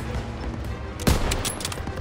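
Gunfire in the World War II shooter Call of Duty: WWII, a sharp burst near the middle rising out of a steady rumble of battle noise, with further shots and clatter after it.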